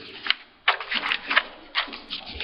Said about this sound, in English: Get the right page turn here.